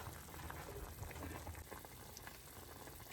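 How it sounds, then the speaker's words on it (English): Braised pork ribs with eggs simmering in a pot over lowered heat, a steady dense bubbling and gentle crackle that stays close and continuous with no talk. "we just basically turn down the heat a little bit and let it just simmer like that"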